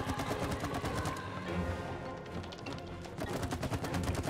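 Rapid bursts of video-game gunfire from It Takes Two as enemies are shot, dense repeated shots with a brief lull midway before the firing resumes loudly.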